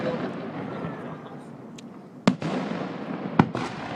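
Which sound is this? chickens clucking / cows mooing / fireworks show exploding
fireworks show exploding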